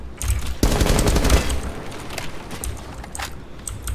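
Gunfire in the video game Rainbow Six Siege: a rapid burst of automatic shots up close, followed by scattered single cracks and quieter distant shots over a constant background rumble.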